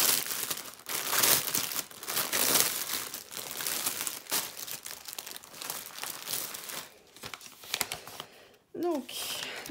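Plastic bags of diamond painting drills being opened at close range, a steady run of crinkling and tearing rustles through most of the stretch with a brief high squeak near the end.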